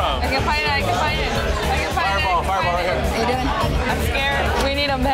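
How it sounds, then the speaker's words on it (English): A packed bar crowd fills the room with loud, continuous chatter and overlapping voices, a dense hubbub of many people talking at once close around. "The bar is now suddenly packed."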